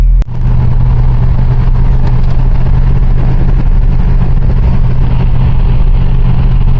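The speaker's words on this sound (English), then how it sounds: "Here we go for a test drive" A 1949 Ford F1 truck that runs hot pulls away on a test drive, its engine roaring loud and steady right up close, with a dense rumble and road noise throughout.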